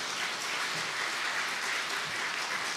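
A church congregation applauding, dense steady clapping from many hands filling the room, sustained evenly at moderate volume with no talking over it.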